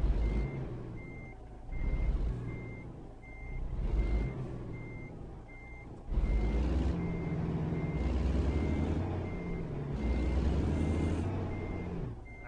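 Truck reversing alarm in American Truck Simulator, a steady evenly spaced series of beeps over a rumbling diesel engine that surges louder partway through as the truck backs up.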